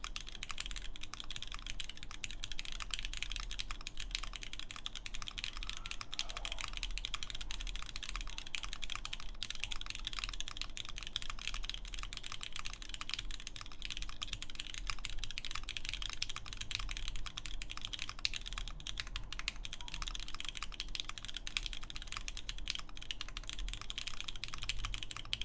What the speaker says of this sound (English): just gonna type random stuff